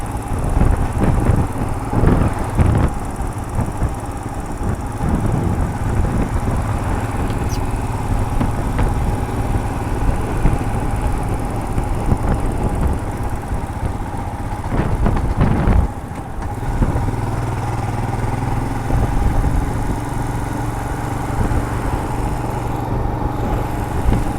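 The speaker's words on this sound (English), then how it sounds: "the reassuring purr of the single cylinder 400cc engine beneath me" A Royal Enfield Himalayan's single-cylinder 400cc engine thrums steadily while riding, mixed with wind buffeting the microphone, with a brief shift in engine note partway through.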